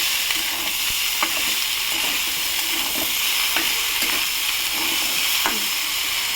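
Lightly boiled taro stolons being stirred in a hot pan with salt and spices, a continuous bright sizzle with periodic scraping strokes of the spatula against the pan, steady and close with no voices.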